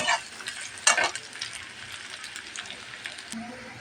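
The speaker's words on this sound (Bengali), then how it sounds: "পেস্টটা লাল হয়ে গেলে আমি লাউয়ের ছোকলাটা ঢেলে দেব" Spice paste frying in a pan, with a steady close sizzle and a couple of brief stirring scrapes over it, fairly loud and continuous.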